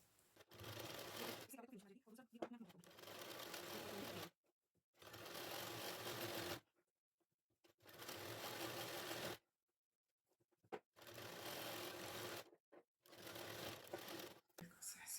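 Electric sewing machine stitching blouse fabric, running in several loud, steady whirring bursts separated by silent pauses, with no voices.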